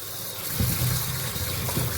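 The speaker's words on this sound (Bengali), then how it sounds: "ভালো করে একটু ধুয়ে দিই লতিগুলো" Water runs steadily from a tap over taro stolons being rinsed, a constant rushing splash with no voices.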